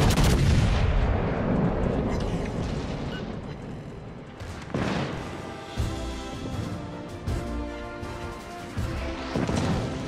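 Naval guns fire in World of Warships: Legends, with loud, rumbling artillery booms that open the clip and return in heavy volleys, each followed by a long roaring decay.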